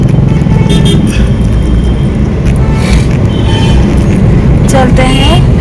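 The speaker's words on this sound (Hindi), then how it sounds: "देखिए ट्रैफिक का हाल" Busy road traffic in an Indian city, with a steady dense rumble of engines, a few horn toots and a passing vehicle near the end, while someone talks over it.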